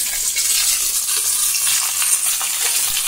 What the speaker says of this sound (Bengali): দেখো এই যে আমি ব্রোকলি আর আলু, ফুলকপি ভাজা করে নিচ্ছি তেলের মধ্যে একটু নুন হলুদ দিয়ে।